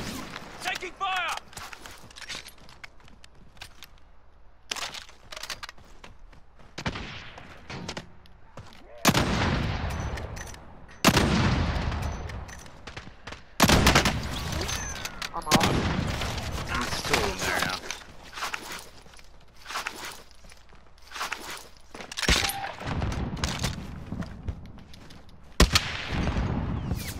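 Gunfire fills a shooter video game's final-circle fight, with repeated loud bursts and single shots scattered across the stretch, sometimes rapid and overlapping, heard under and between excited talk from players.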